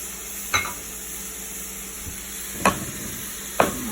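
Brussels sprouts sauté in a pan on a home stove, with a steady soft sizzle beneath three sharp clinks of a utensil against the pan, spaced a second or two apart.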